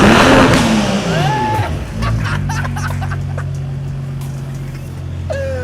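A BMW F36 435i Gran Coupe fitted with an Armytrix exhaust revs hard up close, then settles into a loud, deep burbling idle with a short rising rev at the end, with voices briefly heard.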